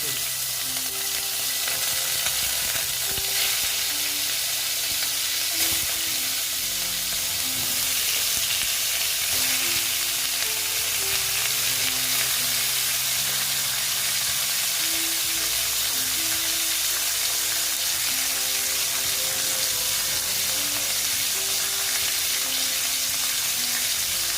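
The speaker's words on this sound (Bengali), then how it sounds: "আস্তে আস্তে ভেজে নেব" Five pieces of katla fish frying slowly in oil in a pan, a loud, continuous close sizzle and crackle that holds steady throughout with no talking.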